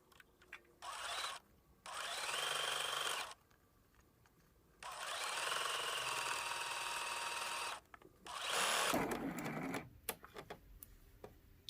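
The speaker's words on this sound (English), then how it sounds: "We're back at the sewing machine. We're going to piece these 3 rows together." A sewing machine stitching quilt block rows together for a scrappy lattice square block, three sustained runs of whirring stitching separated by quiet pauses and fabric handling, fairly close and moderately loud.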